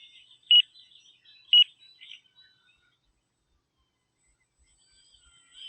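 A short electronic flight timer alarm chirps twice in quick succession during a model airplane flight, then a fainter third beep, followed by near silence.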